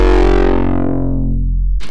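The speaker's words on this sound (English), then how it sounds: "I've used the soft clip distortion mode to create that effect" Gritty foghorn bass patch in the Vital synth, pushed through soft-clip distortion with drive and mix nearly maxed, sounding as a single loud sustained buzzing low note that slowly darkens before a brief noisy burst at the end.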